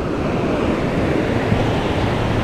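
Sea waves wash steadily onto a beach, a continuous close roar of surf with wind noise across the microphone and no talking.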